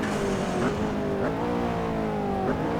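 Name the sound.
McLaren P1 engine at Zwartkops in Assetto Corsa video game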